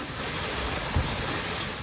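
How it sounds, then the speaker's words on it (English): Torrential rain with golf ball-sized hail during a storm in Austin, a dense, steady roar of pelting precipitation throughout, with a faint low thump near the middle. "Golf ball-sized hail and torrential rain."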